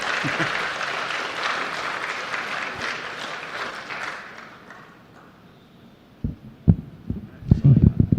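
An audience applauds award-winning companies at a TNVC awards ceremony, dense clapping that gradually fades out over several seconds, followed by a few thumps and someone speaking into the microphone.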